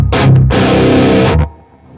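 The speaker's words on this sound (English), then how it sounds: "here's the basic sound of the guitar in channel 2." Loud, heavily distorted electric guitar chords through a Mesa Boogie JP-2C tube amp's crunch channel ring out in two short bursts, thick and harmonically rich, then cut off abruptly into a brief fading tail.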